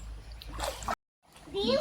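Children swimming in a stream send up brief splashes amid their chatter, broken by a short moment of dead silence before the talking and water noise return.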